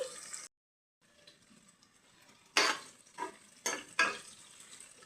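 Khushka rice ingredients fry in a pan, bursts of sizzle and stirring scrapes coming in a few separate swells after a short silent gap near the start.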